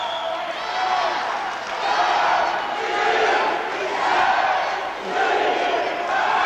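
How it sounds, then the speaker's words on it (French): A large arena crowd at a professional boxing bout between an Irish fighter and his opponent chants together in rising and falling waves, loud and sustained throughout with no talk over it. "Vous entendez la foule en chœur."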